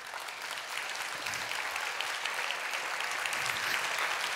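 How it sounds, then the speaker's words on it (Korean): A church congregation applauds during a Sunday worship service, a steady wash of clapping that holds at even strength throughout with no voices over it. "아니, 박수 안 해주셔도 되는데,"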